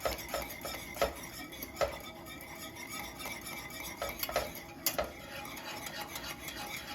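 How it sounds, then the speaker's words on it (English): Polenta is stirred in a pot with a utensil, giving soft repeated scraping strokes at an irregular pace, fairly quiet and with no voices. "So you just want to put in a bit at a time and give it a good stir."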